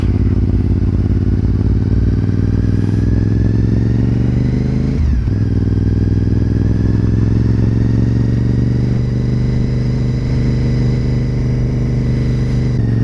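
A Honda RC51 motorcycle rides on new tires, its engine a close, steady drone with a brief dip and shift in pitch about midway, no talk.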